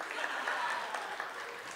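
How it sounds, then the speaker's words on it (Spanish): An audience at a live concert in a restobar claps briefly in a dense, steady patter at moderate volume, with voices mixed in underneath. "un Fuerte aplauso para este voluntario que no le teme a nada"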